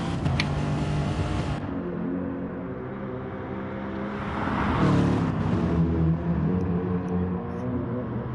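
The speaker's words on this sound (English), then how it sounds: "Warriors 10's BMW rumbles through the mountains and forests of the Nordschleife" A BMW Gr3a race car's engine drones steadily around the Nordschleife in a racing game, a sustained mid-distance hum that swells louder and rougher near the middle before settling again.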